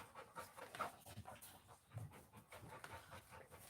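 A dog named Strawberry pants quietly in quick, uneven breaths, faint and close, with no one talking.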